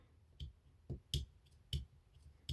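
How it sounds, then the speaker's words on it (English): Quiet, dull snipping clicks of dull scissors cutting crochet yarn, five or six separate cuts spaced unevenly, close up with no talking. "Oh, these are some dull scissors."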